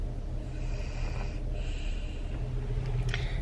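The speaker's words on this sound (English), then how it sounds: "He is actually, he's holding his monster truck and snoring." A young child snores while asleep holding a monster truck toy, slow, steady breathing snorts close to the microphone over a continuous low hum.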